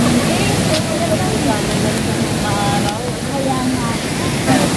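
Clean water flowing at Infinity Farm, a loud, steady rush close by that fills the whole stretch, with voices speaking faintly underneath.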